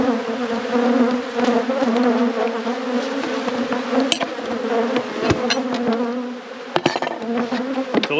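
A crowd of honey bees robbing a hive fills the air with a thick, constant buzz up close, with a few brief knocks and taps breaking through near the end.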